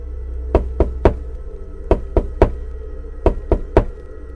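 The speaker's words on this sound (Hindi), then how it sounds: "10 मिनट बीत जाने के बाद हमें हमारे दरवाजे पे खटखटाहट की आवाज़ सुनाई देती है।" Knuckles rap on a hostel door in three quick sets of three knocks, loud and close against a quiet low hum, as a horror sound effect.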